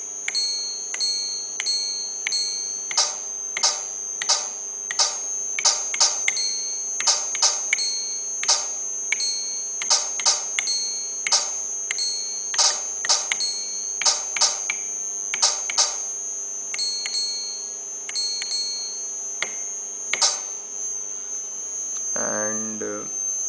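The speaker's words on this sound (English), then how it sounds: "So I'll just show you what is possible here. So it's a simple drum machine." Simple drum machine built from an Arduino board and a Pure Data patch, triggered by piezo sensors: crisp synthetic percussive hits in irregular then rapid rhythmic bursts over a steady electronic tone, ending with a brief low thump.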